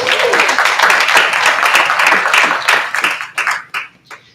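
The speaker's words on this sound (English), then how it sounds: "Let's give a round of applause for that." An audience at a small-business banking workshop in a community center claps loudly, a dense burst of applause that thins out toward the end into a few scattered, separate claps.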